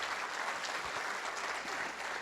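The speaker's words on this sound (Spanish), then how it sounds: "les damos un aplauso" Applause for panel speakers at an environmental education conference, a brief wash of audience clapping heard at a distance, soft and blurred, lasting only a couple of seconds.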